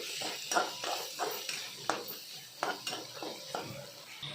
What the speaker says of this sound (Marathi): टाकायचं, हलवायचं, मिक्स करायचं।